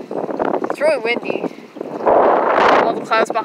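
Strong wind gusts buffet the microphone in loud, rough bursts while a person talks over them outdoors.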